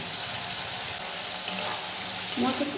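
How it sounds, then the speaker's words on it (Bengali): Peas stirred into spiced winter vegetables for khichuri in a hot pan, a steady close sizzle with a few light clinks of a spoon against the pan. "মটরশুঁটিটা দিয়েও আমি ভালো করে মিশিয়ে নেব"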